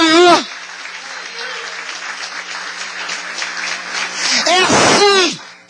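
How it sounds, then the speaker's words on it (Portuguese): A church congregation applauding, a sustained rush of clapping that swells toward the end, framed by a voice speaking at the start and the finish. "Você dá uma salva de palmas a Jesus"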